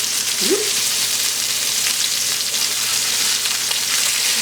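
Beef burger patties of 80/20 meat sizzling in a pan after being flipped, a loud, dense, continuous frying hiss that stays even throughout.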